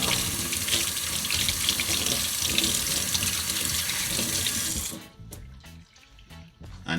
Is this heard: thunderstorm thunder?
no